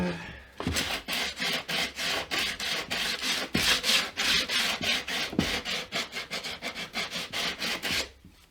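Wood is sanded by hand while shaping a guitar template: steady, rhythmic back-and-forth rasping strokes, close and fairly loud, continuing for several seconds with no voices.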